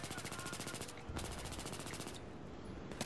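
Rapid bursts of automatic gunfire in Battlefield 3 Conquest mode rattle continuously, with brief pauses between volleys, loud and dense like a firefight.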